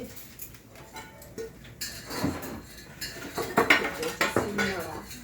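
Fennel seeds pounded on a stone grinding slab (shil-nora) with a stone pestle: a run of hard, close knocks and gritty scrapes that grows busier and louder after the first two seconds.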